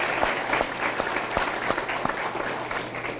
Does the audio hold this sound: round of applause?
yes